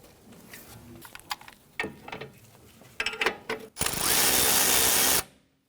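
A nut is threaded by hand onto a rear upper control arm bolt on a 2011-2021 Jeep Grand Cherokee: close metallic clicks and rattles come first, then a loud sustained whirring burst that cuts off sharply.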